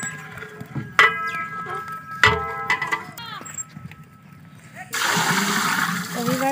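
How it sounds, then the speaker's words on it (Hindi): Water is poured into a pot of soaking rice for salted rice in a village kitchen, a steady rushing splash near the end after a stretch of people talking. "इसमें कितना पानी डलता है ये अब डाल रहे हैं"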